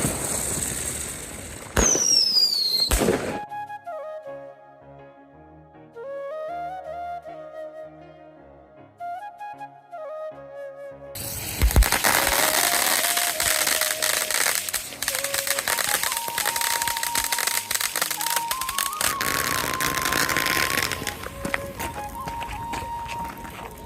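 Diwali firecrackers and fireworks set off in a park in Canada: sharp bangs and a long crackling burst, with whistling rockets and continuous popping filling most of the stretch after a quieter interlude.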